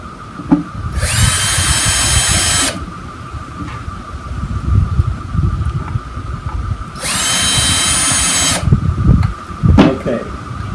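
Two bursts of a power drill driving screws into a wooden birdhouse, each lasting about one to two seconds, with clattering handling noise and low background sounds in between.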